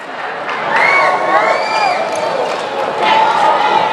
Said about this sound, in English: Good crowd here on a Thursday.